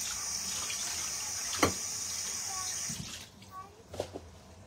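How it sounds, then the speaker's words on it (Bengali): Bowls washed under a running kitchen tap, a steady hiss of flowing water with a brief clink partway through, then the stream stops and a few soft knocks and splashes follow, close by. "সেই তিনটা বোল ধুয়ে রাখছি, তাহলে আমার রান্নাঘরের কাজটাও শেষ হয়ে যাবে"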